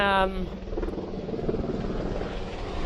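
A helicopter or small plane passes overhead, a loud, steady rumbling drone that holds nearly constant for a few seconds, with a brief higher tone at the very start.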